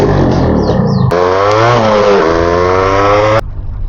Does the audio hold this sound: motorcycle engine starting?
yes